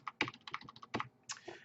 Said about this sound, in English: And I'm using arrow keys to adjust.